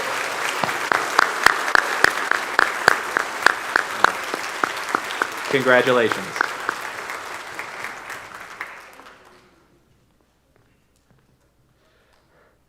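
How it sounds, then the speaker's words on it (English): An audience claps for students at a school spring band concert, sharp individual claps over a broad wash of applause that fades out and leaves near silence, with a brief spoken word partway through. "Please give these students a round of applause for their great work."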